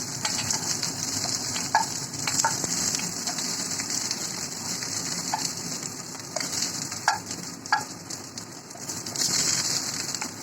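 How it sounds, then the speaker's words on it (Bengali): Chicken pieces for butter garlic chicken fry in a pan with a steady, close sizzle, broken by scattered clicks and scrapes as the pieces are turned and stirred. "সমস্ত টুকরোগুলোকে উল্টিয়ে দিলাম আর আমি খুব ভালো করে ভাজা করে নিলাম"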